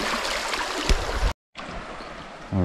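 Cold, clear river water rushes and gurgles steadily up close on a hot 80-degree day, with a brief dropout partway through before the flow resumes.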